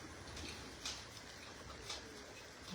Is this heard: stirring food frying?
no